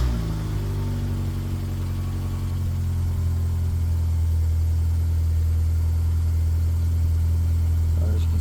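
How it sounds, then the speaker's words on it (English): A barn-find classic Mini's engine runs at a steady, close idle, a low continuous rumble that holds even throughout with no talk over it. "So we'll just quickly start the car up."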